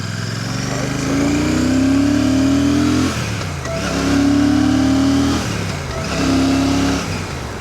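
A Royal Enfield Classic 650 V-twin motorcycle accelerates hard through three rising revs, each climbing in pitch before a brief drop between gear changes, loud and close with a steady engine drone underneath.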